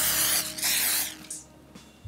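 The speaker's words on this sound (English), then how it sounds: "Spray some oil so it doesn't stick on my pan." Cooking oil is sprayed onto a pan in two or three short hissing bursts, loud and close, with a faint clunk at the very end.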